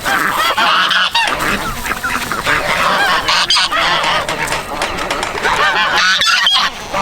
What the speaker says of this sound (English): Now the ducks like to get set out here.